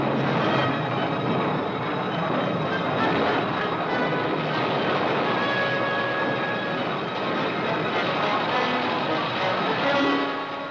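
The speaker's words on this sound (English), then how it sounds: "One aircraft piercing a wall of fire scores a direct hit on an aircraft carrier." Archival Navy war film of a kamikaze aircraft attack on an aircraft carrier: a steady, loud roar of engines and battle noise runs the whole way without letting up, with no voices.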